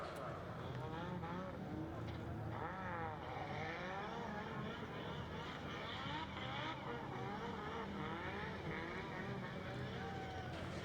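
A drift car at Irish Drift Championship pro qualifying, Round 6 2018, its engine revving and wailing in a sustained, wavering roar across the whole stretch, with commentators talking over it.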